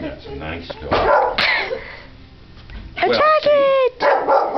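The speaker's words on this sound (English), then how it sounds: "I got her on tape like barking at the stuffed animal" A small dog barks and yips in short bursts at close range at a stuffed animal, interspersed with people talking and laughing nearby.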